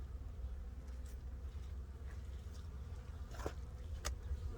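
Honeybees hum around an open hive on a fine day, a faint continuous low buzz with individual bees occasionally passing close by.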